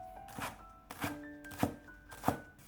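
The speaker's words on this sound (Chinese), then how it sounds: "一把小葱切成葱花" A knife chops green onions on a cutting board in four crisp, evenly spaced strikes, close and clear with no talking.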